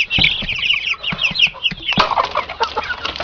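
Fourteen-day-old young broiler chickens cluck and peep in a busy flock, with quick overlapping chirps and clucks close by, some wing flutters, and no talking.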